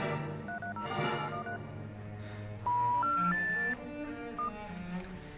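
A phone on a disconnected line is dialed, producing a short series of distinct beeping tones, followed by a few longer tones like a line signal, clear and close with no talking.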